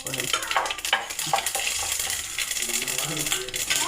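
Urad dal and mustard seeds fry in hot oil, giving a steady close sizzle and crackle with scraping stirs in the pan throughout.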